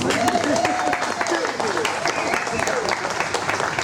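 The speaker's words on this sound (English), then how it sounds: "go ahead and applaud" Audience applause at a baseball club dugout talk event, a steady broadband patter of many hands with voices talking over and around it throughout.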